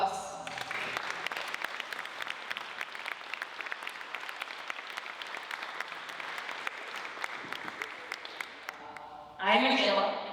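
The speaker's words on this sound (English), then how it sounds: "Let's give them one last round of applause." Wedding guests applaud after a speech, dense sustained clapping filling the room for several seconds, then fading before a brief louder burst of voices at the end.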